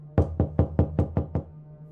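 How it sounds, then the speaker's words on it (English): Seven sharp, evenly spaced knocks on a door, close and loud, in a quiet room. "we both hear a knock on the door"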